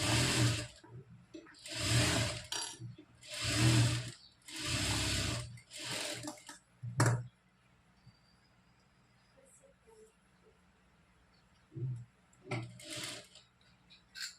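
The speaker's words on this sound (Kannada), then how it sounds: "ನಾನು ದೊಡ್ಡ ಸ್ಟಿಚಿಂಗ್ ಅನ್ನೋದನ್ನ ಹಾಕೋತಾ ಇದ್ದೀನಿ ಫ್ರೆಂಡ್ಸ್" A sewing machine stitches the boat neck of a blouse in several loud, rapid bursts separated by short pauses, then falls quiet before two brief runs near the end.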